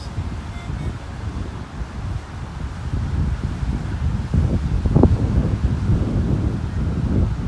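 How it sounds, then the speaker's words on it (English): Strong wind buffets the microphone on a beach in North Naples, Florida, as a dense, low, steady roar that swells slightly midway and carries alone. "And here comes all the wind, folks."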